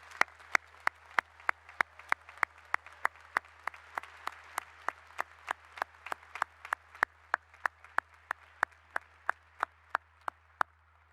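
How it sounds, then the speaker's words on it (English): Slow, evenly spaced single claps at a university winter commencement ceremony, about three per second for eleven seconds, each sharp and distinct over a low steady hum rather than a dense crowd roar. "Please join me in applauding the achievements of these doctoral candidates."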